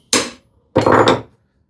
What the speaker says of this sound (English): I'll take my hammer, just tap it.